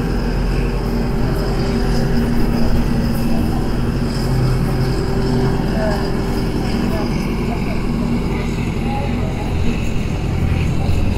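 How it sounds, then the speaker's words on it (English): A lifeboat launch tractor, an amphibious vehicle that tows the lifeboat trailer out into the sea, gives a continuous loud, close engine rumble throughout. "this is the tractor which takes the trailer with the lifeboat on out into the sea"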